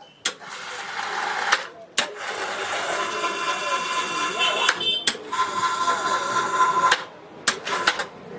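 A clutch-type motor on a monkey grinder hoist runs in bursts, a steady mechanical whine and rattle broken by sharp clunks as it starts and stops, with someone talking over it.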